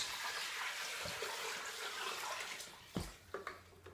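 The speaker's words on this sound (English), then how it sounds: "So this is reverse osmosis water, and we're going to put this and cover the bones." Reverse osmosis water pours from a container into a pot of beef bones, making a faint, steady gushing splash that tapers off near the end into a few clunks and drips.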